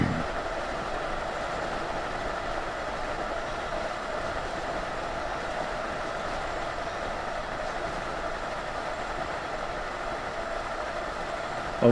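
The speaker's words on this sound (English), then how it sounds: "It is again, that's an electric train, but it goes 125, I think it is." An electric express train in Train Sim World 2, running at speed with a steady, even rumble and hum throughout, continuous and unchanging, with no talk over it.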